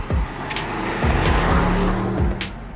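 A heavy Bentley Bentayga SUV accelerates hard, its engine note sweeping upward several times in quick surges as it climbs through the gears, loud and close.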